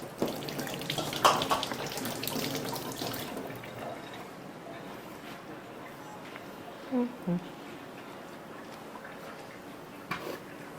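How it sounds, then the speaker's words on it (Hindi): A kitchen tap runs while hands are washed during cake baking. The water makes a faint, steady splash for a few seconds, then fades, with a couple of small clinks, while people talk over it. "मैं हाथ धो लूँ"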